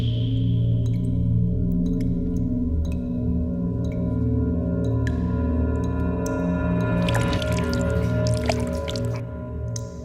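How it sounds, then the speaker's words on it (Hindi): Water leaking and dripping onto a terrace, heard as soft squishy drips and chirpy trickles over a steady, loud background hum, with a brighter burst of splashing near the end. "पानी लीक हो रहा है टेरेस पर।"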